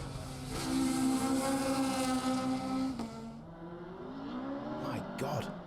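A Ford Escort rally car engine screaming at high revs at Donington Park circuit, holding a steady pitch before dropping off, then sweeping up and down as it revs again.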